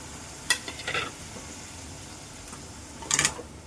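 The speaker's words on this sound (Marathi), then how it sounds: "व्यवस्थित यांना मिक्स करून घेऊ" Prawn masala with tomato stirred in a pan: a few short scraping, sizzling bursts of the spoon against the pan, near, over a steady quiet background hiss, with no talking.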